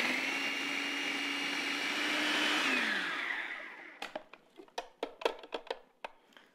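A blender whirs steadily while blending a spicy peanut noodle sauce, then winds down and stops, followed by a series of sharp clinks and taps from handling.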